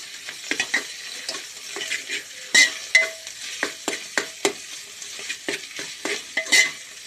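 Ginger frying in oil for a chicken pilaf, stirred with a utensil: a steady close sizzle broken by repeated sharp scrapes and clinks against the pan, irregular in rhythm, with no talking.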